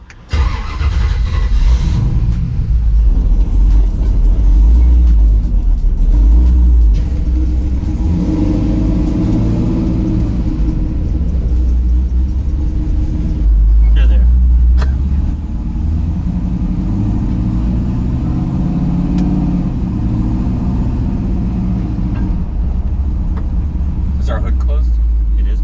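A slammed, supercharged LS3-swapped 1972 Chevy C10 truck driving, its deep engine rumbling loudly and steadily, swelling and easing as it revs, with people talking over it.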